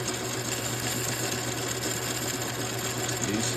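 A lathe takes light finishing cuts on the aluminium base of an Echo 7310 chainsaw, a steady whirring hum with a faint cutting buzz, continuous and even for a few seconds, no talking.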